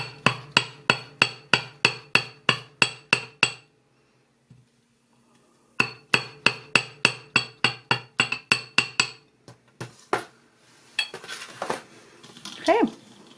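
A hammer taps wire on a metal bench block in quick, even rhythmic bursts of sharp ringing strikes, pauses briefly, then resumes, ending with some softer handling clatter.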